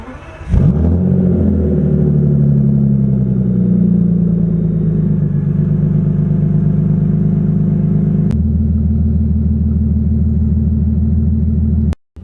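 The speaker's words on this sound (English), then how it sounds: "Definitely time for a cold startup." A Bentley Continental GT's W12 engine cranks and fires up from cold, surging loudly before settling into a deep, steady rumbling idle that continues up close, then cuts off.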